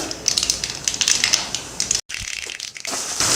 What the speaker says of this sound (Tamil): எண்ணெய் ஊற்றி, எண்ணெய் காஞ்சிருச்சு. இதில் கடுகு சேர்த்துக்கலாம்.